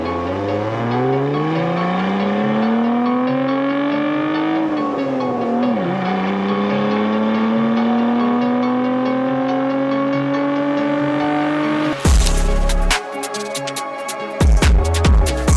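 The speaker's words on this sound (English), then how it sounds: "Here's a little bit of footage of Clayton drag racing a semi-truck versus his Viper." Dodge Viper drag racing a semi-truck, a loud engine roar rising in pitch through gears, then a chaotic burst of wind buffeting and rumble near the end, no talk.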